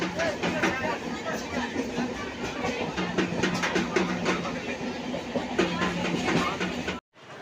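A train rumbles through Serampore railway station with a steady, rattling clatter, while a crowd chatters around it and voices carry over the rolling noise. It cuts off abruptly near the end.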